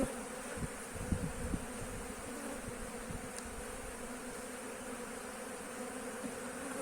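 Honeybees buzzing at a beehive that has been fed sugar in early spring, a dense continuous drone with a few louder close passes near the start, no voices.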